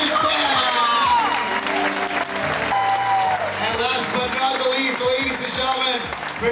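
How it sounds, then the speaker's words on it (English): An audience on board the Norwegian Prima cruise ship applauds and cheers for the cruise director staff, with loud sustained clapping under an announcer's voice. "How about a big round of applause for your cruise director staff?"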